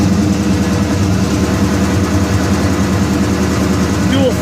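A 1970 Oldsmobile Cutlass SX convertible engine with dual Flowmaster exhaust, idling with a steady, loud, low rumble that holds evenly throughout, close by and without interruption.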